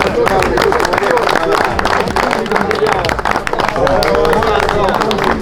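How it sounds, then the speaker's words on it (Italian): A crowd applauds steadily and loudly at a prize-giving for an Italian hound trial on hare, dense clapping filling the whole stretch with voices mixed into the din. "Un applauso per favore."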